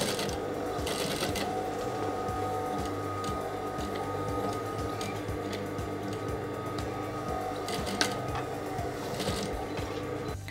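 Up close, a sewing machine runs steadily while stitching a seam on a dashiki, with a fast even mechanical chatter and a few brief pauses and knocks throughout.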